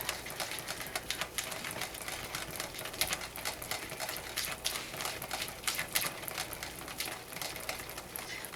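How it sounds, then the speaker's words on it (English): Hot soap batter at about 205 Fahrenheit, brine bar soap at potato stage, being whisked in a pot, a rapid irregular clatter of ticks and taps that stays close and steady throughout, with no voices. "Just going to whisk that up."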